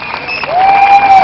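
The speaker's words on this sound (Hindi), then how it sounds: "Let's have a round of applause for Velvet." An audience at a college fest show claps in a steady burst of applause with a tonal whine running through it, with no one talking.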